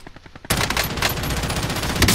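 Gunfire in Call of Duty: Cold War breaks out suddenly after a quiet moment and becomes dense, loud automatic fire, with rapid rattling shots that continue without pause.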